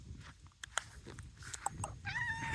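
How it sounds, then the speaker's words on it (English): Outdoors in a farm front yard among cherry trees, a cat gives a short, fairly quiet meow at the end, after a few faint clicks and rustles. "Hey kitty."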